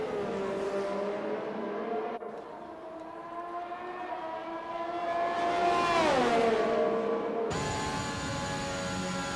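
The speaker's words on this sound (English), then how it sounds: "Two cars getting close." Race car engines whine in a racing video game round set in Italy, a sustained tonal drone that rises and swoops in pitch as cars close in and pass, with no talking over it.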